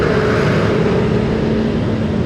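A car rolls past at a landfill site, a steady broad engine and road rumble close by, continuous throughout with no talk.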